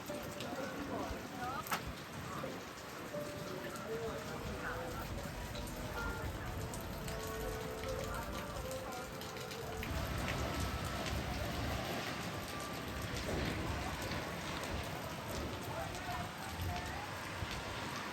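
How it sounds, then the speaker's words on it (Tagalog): Rain falls steadily outdoors in Panglao, Bohol, a dense close patter on surfaces that runs continuously under occasional voices talking in the background. "Umuulan pa."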